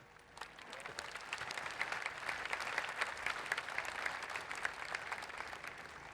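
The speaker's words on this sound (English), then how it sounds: "You can applaud." An audience claps steadily at a youth summit opening ceremony in Bangkok, a dense, sustained applause from a large crowd that holds even throughout without voices.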